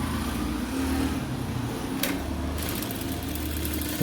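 A sewing machine runs steadily while stitching piping fabric for a decorative sleeve design, its motor hum continuous and close, with a brief sharper burst of stitching partway through.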